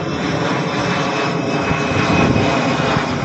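A steady, loud drone of an Air Asia airliner's engines fills the cabin on a domestic flight, an even broadband roar with a faint whine and no talking.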